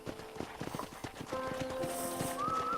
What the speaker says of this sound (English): And here's the corral. This one's for the horses.